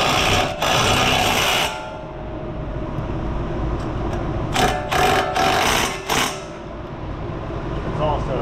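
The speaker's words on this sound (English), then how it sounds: "Back at it again with the quarter inch driver, just to run the bolts around." A quarter-inch driver runs wheel spacer bolts on a Ford Mustang GT, giving a loud whirring burst at the start and several short bursts later, with mechanical clatter between them.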